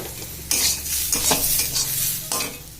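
Chopped tomatoes sizzling loudly in a pan with ground lentils, cumin and coriander powder, a spoon stirring through them in several scraping bursts over a steady hiss, close and clear with no voices.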